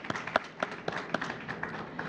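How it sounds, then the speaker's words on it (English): An audience at a health and wellness trade show claps for the event's sponsors, giving a brief spatter of scattered, moderately close handclaps in an uneven rhythm. "So a big clap to our sponsors."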